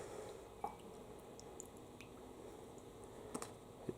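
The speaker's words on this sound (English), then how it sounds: "Starting to drip." Fuel dripping from a loosened carburetor bowl on a Craftsman lawn mower, a few faint, sparse drips against a quiet background, with no talking.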